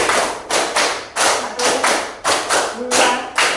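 Group hand clapping from a classroom of students following a counted rhythm, with repeated sharp unison claps arriving in steady clusters, bright and close, each decaying briefly before the next.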